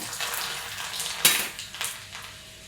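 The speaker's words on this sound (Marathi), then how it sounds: "मोहरी टाकते जिरं लसूण पहिला" Mustard seeds, cumin and garlic hitting hot oil for an onion chutney, a quiet crackling sizzle with a sharp metallic clink from a spoon against the pan and a few spattering pops.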